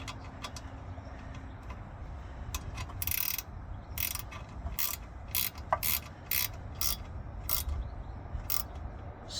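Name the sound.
ratchet with a 10mm socket turning a bolt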